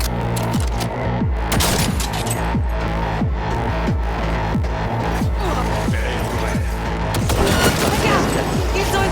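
Rapid bursts of turret gunfire in the video game Cyberpunk 2077, loud and rhythmic with repeated booming shots during a firefight.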